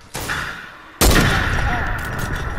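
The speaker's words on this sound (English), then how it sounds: "shoot the supply drop that one with the sniper" Two loud, sharp sniper rifle shots in Fortnite, the first cracking out early and the second, heavier blast about a second later with a long ringing tail that fades slowly.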